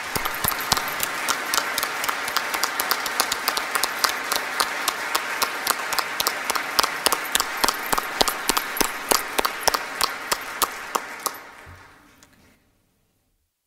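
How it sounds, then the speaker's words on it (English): An audience applauds distinguished guests at the swearing-in of Pennsylvania's lieutenant governor, steady dense clapping over many seconds that thins out and stops near the end. "May I ask for a round of applause for all of our distinguished guests."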